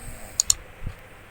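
Two quick, crisp mouse clicks in close succession, sharp and bright against a quiet background hum.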